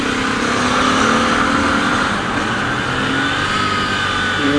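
A modified Royal Enfield Continental GT650 motorcycle pulling hard in first gear around 5000 rpm, its loud continuous engine drone rising steadily in pitch, close and without speech.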